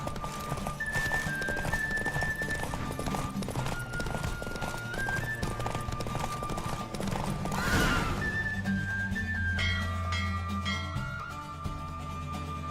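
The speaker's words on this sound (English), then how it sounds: "The Roach I chose put in a nice run" Horse galloping in a race in The Witcher 3 video game: fast, steady hoofbeats run throughout with rushing wind, a whinny near the end, and game music underneath.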